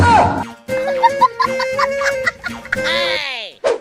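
A cartoonish rooster clucking effect sounds in rapid bursty notes, ending with a rising squawk, loud and close with no talking, in a comedy clip.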